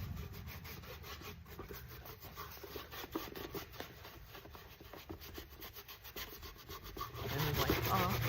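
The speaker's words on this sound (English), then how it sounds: "Now I'll go in with the aging wax." Aging wax is rubbed onto thrifted wooden home decor with a cloth or brush, making quiet repeated scrubbing and rubbing strokes close by, steady throughout with a slightly louder stretch near the end.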